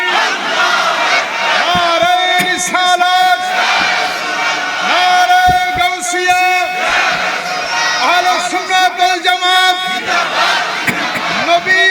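A large religious gathering answers a takbir call with loud chanted shouts in unison, several rising surges of massed voices rolling through the space, close and forceful.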